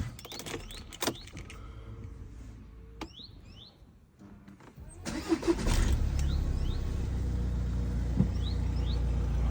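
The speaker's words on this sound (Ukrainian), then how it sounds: "Так, заведемо машину." Clicks and a few electronic chimes, then a 2014 VW Golf 1.6 DSG engine cranks and catches, settling into a steady, close idle rumble.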